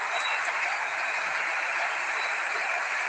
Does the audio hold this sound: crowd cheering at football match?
yes